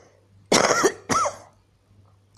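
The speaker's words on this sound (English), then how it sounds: "sorry, I have this cough." A person coughs and clears their throat in two close, forceful bursts about half a second apart, followed by near silence.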